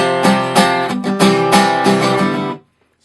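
An electric guitar plays a short, clear phrase from a song, picking several ringing notes and chords in a steady rhythm, close and alone, then cutting off into silence.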